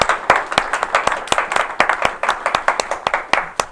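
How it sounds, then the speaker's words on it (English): Applause from an audience at a city council session, with sharp, distinct individual claps from a fairly small group in an uneven rhythm, close and clear, with no talking over it. "A round of applause for all these efforts people do."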